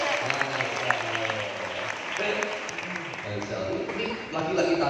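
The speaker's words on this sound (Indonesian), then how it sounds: "Tepuk tangan dulu." A group applauds at an outdoor gathering, brief lively clapping mixed with voices and chatter from nearby people.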